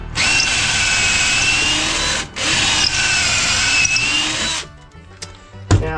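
A power drill bores a pocket hole in wood, a loud high whining run interrupted by one brief pause, then resuming before spinning down, followed by a few small clunks and handling noises.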